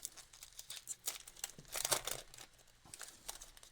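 A Pokemon TCG Journey Together booster pack is torn open by hand: steady close crinkling of foil wrapper with a denser burst of tearing in the middle, fairly quiet and with no voice.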